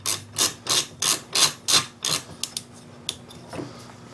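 A suppressor is screwed onto a Sterling 9mm rifle barrel, giving a run of about six evenly spaced raspy ratcheting clicks that fade into a few sparser, fainter ticks, close and alone.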